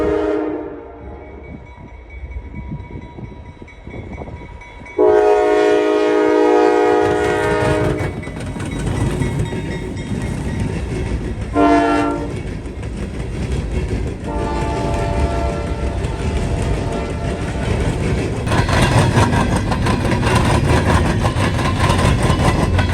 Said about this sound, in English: a CSX empty coal train on the C&O line crosses the Indy Line